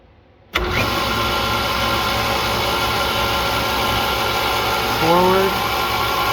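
A concrete saw motor with a magnetic starter switches on abruptly and keeps running with a loud, steady mechanical drone and hum, heard close up.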